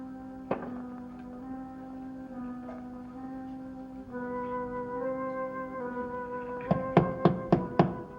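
Knocking on a door in a dramatic indoor scene: a single knock, then after a sustained musical drone, a quick run of about five sharp, loud raps near the end.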